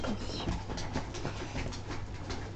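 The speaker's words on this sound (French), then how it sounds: "c'est le matin, les toutous sont super excités" Excited pet dogs in the morning panting and whimpering close by, with quick breathy puffs and small whines in an uneven, restless rhythm.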